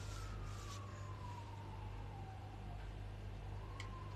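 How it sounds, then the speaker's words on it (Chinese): A fire engine siren outside, heard from indoors, wailing in a slow falling then rising sweep over a steady low hum, moderately distant and alone without talk. "啊，这是消防车。"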